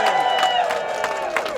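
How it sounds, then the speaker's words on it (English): A crowd at an outdoor rally outside the Supreme Court applauds and cheers steadily, a dense wash of clapping close by with voices mixed in throughout. "Give him a loving round of applause."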